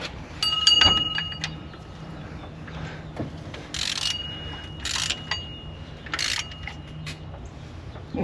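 A ratchet snugs down water pump bolts on a Dodge Ram 2500 5.7L Hemi in short bursts of quick clicking, with metallic clinks and handling noises between them, close and moderately loud.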